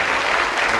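Studio audience applause on the darts game show Bullseye, a brief dense burst of clapping at full level with no talk over it.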